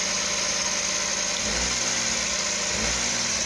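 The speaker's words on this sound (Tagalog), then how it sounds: "Pero mataas pa rin yung RPM. So ang nagiging dahilan guys ay ito. So pansinin nyo yung makina, yung tunog." A Daihatsu DA63T Multicab engine idles at high RPM with an unstable, surging idle, a steady loud drone close by that dips and shifts pitch partway through, with no talking.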